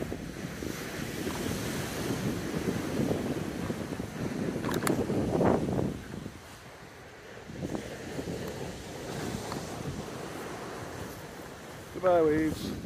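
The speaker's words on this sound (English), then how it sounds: "The crashing waves." Ocean surf rolls onto Middle Cove Beach in Newfoundland, a broad rumbling wash that swells and recedes under heavy wind buffeting on the microphone, with a brief animal whine near the end.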